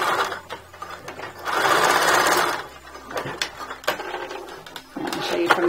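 Sewing machine stitching back and forth on a two-tone skirt, close and loud: short whirring bursts stopping and restarting in an uneven rhythm.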